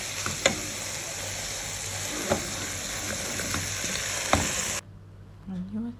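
Onions and spices sizzle steadily in olive oil in a pan, the chicken about to go in, with a constant dense frying hiss, a few sharp spatters and stirring clicks, then the sizzle cuts off near the end.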